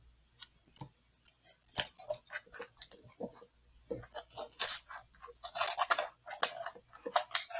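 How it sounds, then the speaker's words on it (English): Scissors snip through glossy magazine paper in a series of crisp, close cuts, sparse at first and then quicker and louder, with no talk. "I'm gonna have to cut it off."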